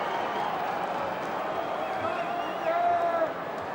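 Large record crowd at a night AFL football match between Brisbane Lions and Essendon Bombers, a steady distant roar of the stadium beneath a commentator's voice, swelling briefly near the end.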